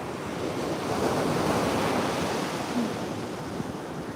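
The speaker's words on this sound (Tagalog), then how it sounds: "Wow, dagat, ang ganda ng dagat." Sea waves wash onto a beach at San Juan, La Union in a steady, broad rush of surf with wind buffeting the microphone, loud and continuous with no voices.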